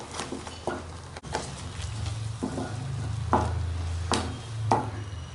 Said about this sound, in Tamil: கையெடுக்காமல் நல்லா கலரி விட்டுக்கிட்டே இருங்க, இல்லைன்னா அடி பிடிச்சிடும்